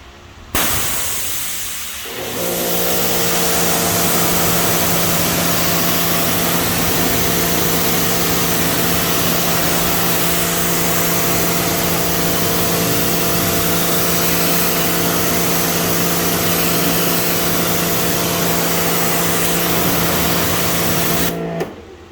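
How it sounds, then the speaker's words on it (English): A pressure washer starts up at a car wheel and tire cleaning job and runs steadily, a loud continuous motor drone with a constant hiss of spraying water and no talk over it. "I'm going to make sure your pressure washer is turned on first."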